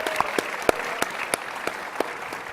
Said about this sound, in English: Can we give a round of applause to CPAC and the ACU?